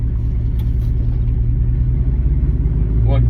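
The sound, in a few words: 2009 Chevy Silverado truck engine driving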